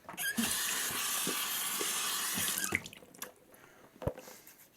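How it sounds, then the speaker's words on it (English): Tap water runs steadily into a sink, a loud continuous splashing rush that stops partway through, leaving faint drips and small clinks as the beard and face are wetted before a cheap shave on a snowy day. "wet the beard a bit, wet the face, and start lathering"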